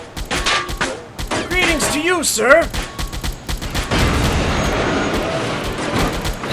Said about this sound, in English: A shot! A gunshot, even!